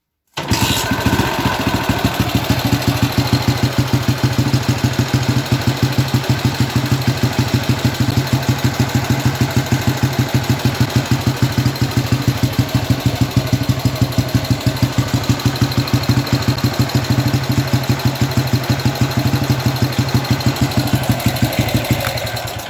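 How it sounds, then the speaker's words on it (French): A vintage motorcycle engine, cold and fitted with a prototype electronic ignition, idles high and steady at close range, a loud even putter running alone without pause. "vu qu'elle est froide, le ralenti est assez haut. Donc je vais la laisser chauffer."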